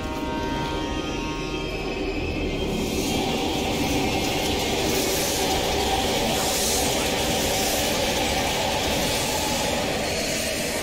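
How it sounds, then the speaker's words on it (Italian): A train moves steadily in Call of Duty: Black Ops Cold War, a constant loud rumble and rolling clatter with hissing, alone throughout. "Il treno sta rallentando,"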